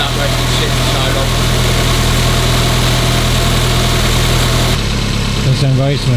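An old car engine that was rebuilt years ago idles steadily after starting from long storage, a smooth low hum with voices talking over it near the end.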